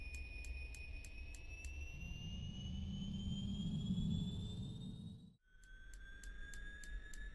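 A Beech 1900D turboprop engine spools up during a start in the X-Plane 11 flight simulator: a steadily rising whine over a building rumble, with rapid repeating clicks. A brief dip near the end, then the whine continues.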